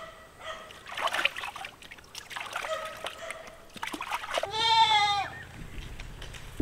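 Several goats bleat after a bath on a Romanian farm, with a clear, loud, wavering bleat standing out near the end among scattered shorter calls.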